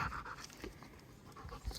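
A tired dog pants on the way down a mountain trail, fast, steady breaths close by and fairly quiet, with a few louder huffs at the end.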